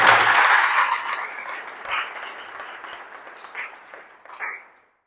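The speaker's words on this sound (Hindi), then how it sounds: "एक बार जोरदार तालियां बजाकर" Loud applause from the audience at a Hindi kavi sammelan poetry gathering, strongest at first, then thinning out and fading to silence near the end.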